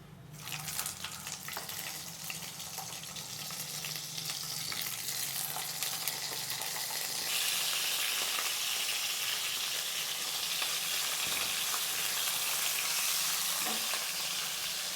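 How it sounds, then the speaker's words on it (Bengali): A katla fish head fries in hot oil with bay leaves and cumin, giving a steady, dense sizzle that grows louder and brighter partway through, close and continuous with no talk. "এবার বন্ধুরা আমি মাছের মাথাটাকে একটু ভেজে নিচ্ছি"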